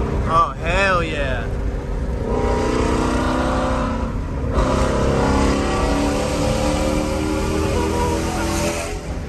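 A 2018 Shelby GT350 Mustang on its stock exhaust revs loudly and steadily, the engine note rising and holding while excited voices shout and talk over it.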